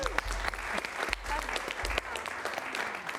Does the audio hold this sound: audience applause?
yes